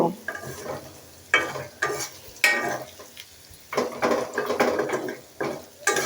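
Food fries in a pan with a crackling sizzle broken by repeated bursts of stirring and scraping against the metal, close up and uneven in rhythm.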